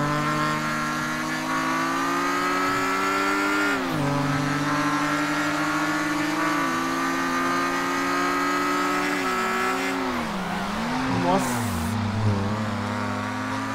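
Chevrolet C10 pickup driving fast in GTA roleplay, a loud, steady engine drone with shifting pitch as it accelerates and eases off, and brief tire noise near the end.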